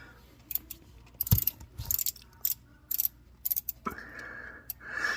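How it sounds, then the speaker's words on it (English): Ratchet wrench clicking in short irregular bursts while turned, working on ignition parts of a 1990 Chevy S10 pickup; close, dry mechanical ticks with brief pauses and a clank, no talk. "Plus you can kind of hold on to it while you're turning your ratchet backwards too."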